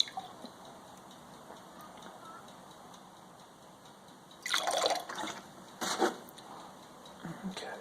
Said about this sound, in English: I can rinse all the different sides here.